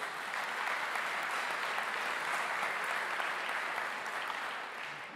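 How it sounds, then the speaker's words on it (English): Audience applause at a political speech: a dense, even wash of clapping from a large crowd, sustained throughout at moderate volume before easing slightly at the end. "You hold the applause there."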